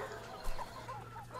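Pullet hens aged around 12 to 18 weeks clucking softly in short, overlapping calls over a low steady hum, with one brief louder bump partway through.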